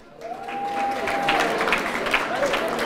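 Audience applause at an awards ceremony for a QA testing conference closing, a steady wash of clapping filling the room with a tonal whistle-like sound running over it.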